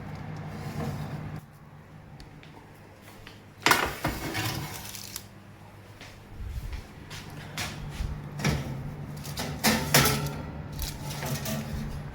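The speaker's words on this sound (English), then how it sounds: "So we will get them out of the oven, checking that they do seem to be done" A baking tray of fruit scones comes out of the oven with a metallic clatter and a few knocks and scrapes, close by, over a steady kitchen hum and a background drone.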